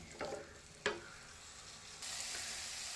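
Garlic and spices fry in a pan with a soft, low sizzle, a couple of quick sharp pops early on, then a steadier hiss that grows slightly louder near the end.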